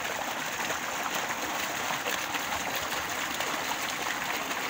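Water gushes steadily from a 4-inch pipe driven by a 15 horsepower pump motor, a dense, continuous rushing splash with no pauses.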